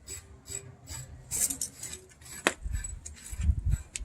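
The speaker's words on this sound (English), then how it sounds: "the material will be crushed down to 1/2 inch or 3/8 minus when it falls through the hammer mill." Hammer mill crushing military shell waste down to small pieces that drop onto a flat conveyor, heard as a busy rasping, rattling and grinding texture with a sharp impact near the middle and heavier low thumps toward the end.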